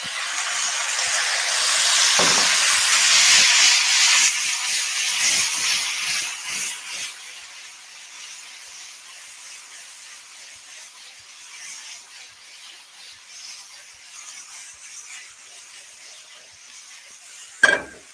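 Soy sauce sizzling on mushrooms in a hot pan, with ginger mushrooms being tossed. A loud, bright hiss fills the first several seconds, then fades to a softer steady sizzle, and a sharp clank sounds near the end.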